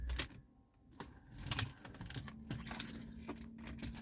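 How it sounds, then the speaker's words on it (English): A key rattles and jangles as it slides into the ignition of an Abarth 595C Turismo, a string of quiet close metallic clicks followed by a faint steady electrical hum. "you just put the key in, ignition"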